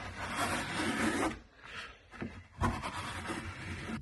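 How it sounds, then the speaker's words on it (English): Blade scraping excess wax off a waxed canvas anorak, close rough rasping strokes in a dense first stretch, a brief pause, then another harder scrape and continued scratchy rubbing. "we just scrape back the surface of the fabric and put it back in there for melting down later."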